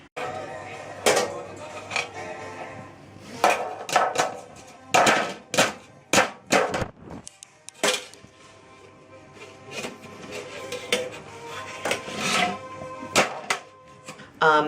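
A baby bangs an Aldi plastic container and lid, making irregular sharp knocks and clacks in bursts, some close and loud, with quieter stretches and occasional voices between.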